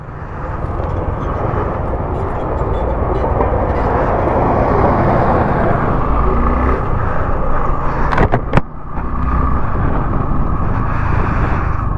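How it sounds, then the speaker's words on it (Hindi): A bulldozer rumbles past on a rough mountain road with a loud, continuous low engine drone and clattering, briefly interrupted by a couple of sharp knocks near the end. "बुलडोजर जा रहा है, बुलडोजर"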